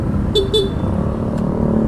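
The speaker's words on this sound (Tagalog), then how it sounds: "pindutin natin yung stock horn" The stock horn on a Honda Click scooter gives two short beeps close by, followed by a fainter third, over a steady engine and traffic rumble.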